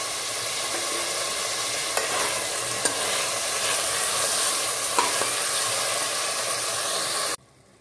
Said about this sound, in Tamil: இப்போ வெங்காயம் போட்டுட்டேன். இதுலேயே இஞ்சி பூண்டு தக்காளி பச்சை மிளகாய் எல்லாத்தையும் போட்டு நல்லா வதக்கிக்கலாம்.